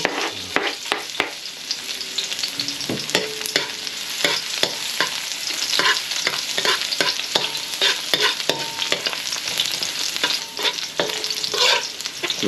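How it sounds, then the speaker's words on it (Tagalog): Garlic fries in hot cooking oil and is stirred for Filipino tinola chicken soup, a bright constant sizzle broken by frequent rhythmic scrapes and clacks of the spatula, loud and close with no speech. "Painitin natin ang ating mantika. Unahin natin ang bawang."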